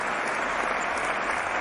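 Steady, dense applause from a crowd, even and unbroken throughout, sounding like a canned applause effect with no voices on top.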